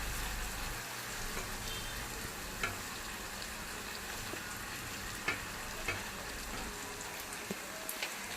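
Marinated korameenu fish pieces sizzle in fried onions in a pan, a close, steady crackle with occasional sharper pops and spits throughout.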